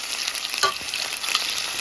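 Frog meat sizzles steadily in a hot pan while a spoon stirs it, with a couple of brief scraping knocks against the pan; close up, no talking.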